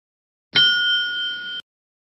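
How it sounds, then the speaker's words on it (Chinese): One bell rings once to signal that a minute is left in a debate competition round, a clear metallic ding that holds for about a second and then stops abruptly, surrounded by silence. "将听到一声铃响"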